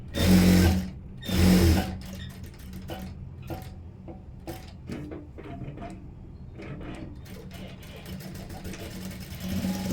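A sewing machine stitches the front of a blouse, opening with two loud bursts of whirring and then a run of softer, rapid mechanical clicks and short runs, with no talk.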